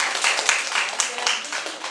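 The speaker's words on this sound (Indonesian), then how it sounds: "ya tepuk tangan buat Raisa" Students in a chemistry classroom clap for a classmate, a lively patter of hand claps with overlapping talk.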